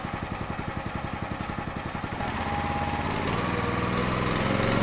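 A RuggedSplit log splitter's small gasoline engine runs with the choke on and throttle at one-third, warming up: a fast, even putter that starts choppy, then settles into a steady, louder drone, close by with no talk.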